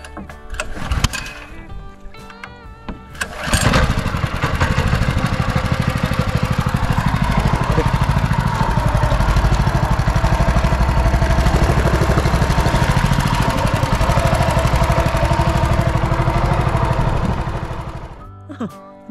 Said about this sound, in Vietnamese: sẽ nổ máy xuồng lên nha